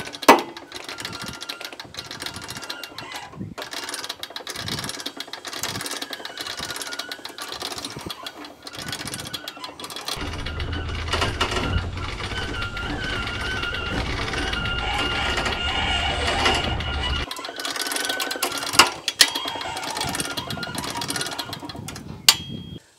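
One-man lift raising a beam while framing a drive-through garage, a steady mechanical whirring and clattering drive running continuously, with a deeper rumbling stretch midway and a few sharp knocks near the end; close and fairly loud, no talking.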